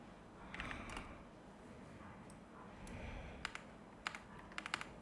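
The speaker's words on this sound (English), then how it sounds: "If I can just type that." Computer keyboard typing while editing a thumbnail in CapCut: a few faint, sparse clicks and taps, mostly later on, over a steady quiet background hiss, with no talking.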